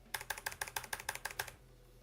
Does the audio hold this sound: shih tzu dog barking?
no